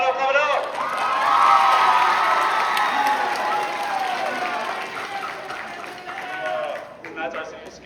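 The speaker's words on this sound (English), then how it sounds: "Clap it up, clap it up, clap it up!" A high school band audience at a senior skit night claps and cheers in a loud, continuous crowd roar with whoops, peaking early and then tapering, with voices shouting over it.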